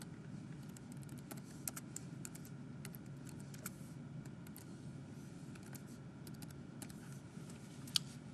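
Fingers type a school name into a spreadsheet cell on a computer keyboard, producing a quiet, uneven run of soft, close keystroke clicks over a faint room hum.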